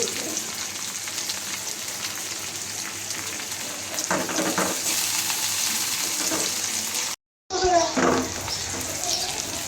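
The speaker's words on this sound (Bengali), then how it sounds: "পেঁয়াজের সাথে একটু লবণ দিয়ে দিব পেঁয়াজটা তাড়াতাড়ি সিদ্ধ হয়ে যাবে কাঁচামরিচ দিয়ে দেবো গোটা কাঁচামরিচ" Sliced onion and whole green chilies frying with salt in a pan give a steady close sizzle with scraping stirs, briefly cutting out near the end before the hiss resumes.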